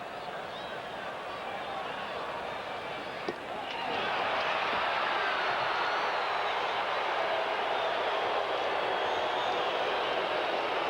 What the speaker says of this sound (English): Crowd uneasy. You'll hear the reaction.